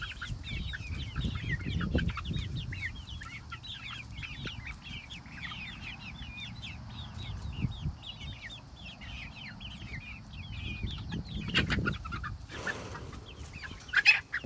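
Several chickens cluck and chatter continuously nearby, a busy overlapping flock murmur with a few louder bursts and low rustling.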